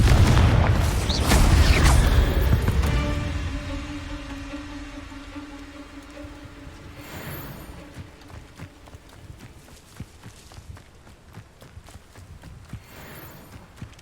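A Confringo blasting spell goes off in Hogwarts Legacy on PS5: a loud, booming explosion bursts out at the start, then rumbles and fades into a quieter tail of game ambience over the following seconds.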